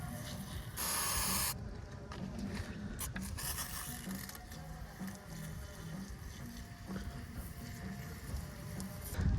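A brief, loud hiss of brake cleaner sprayed from a bottle while reconditioning an 80 Series front wheel bearing, lasting under a second, then scraping, rubbing and workshop clatter.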